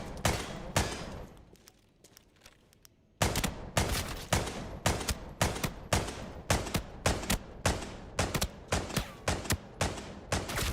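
Shotgun blasts in Arena Breakout Infinite fire loud and close, a single shot, a pause, then a long rapid string of sharp booming reports.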